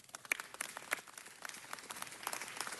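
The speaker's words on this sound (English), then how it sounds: "I want to give Leslie a round of applause for putting this vision forward as well." Scattered, sparse clapping from a small group at a city council meeting, individual claps standing out sharply at an uneven pace and growing slightly busier toward the end.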